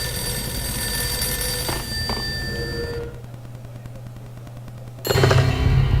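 A telephone rings repeatedly in the Max Payne video game, the bell tones steady and fairly loud over a low ambient hum, followed by a short lull and then a louder burst of game sound.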